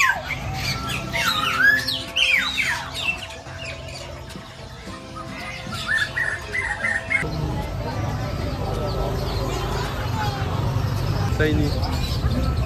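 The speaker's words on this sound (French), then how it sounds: "on a plein de petits oiseaux" Small birds squawk and chirp at a crowded pet market on Java, Indonesia, in sharp, busy bursts. A steady murmur of voices and market noise runs underneath and grows heavier later on.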